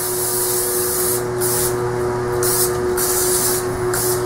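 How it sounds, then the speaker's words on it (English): Vegetable oil sprayed from a can onto a metal welding table, a steady loud hiss with pulsing bursts through the clip, accompanied by a constant low hum, no voices. "you can spray down your table with just some simple vegetable oil"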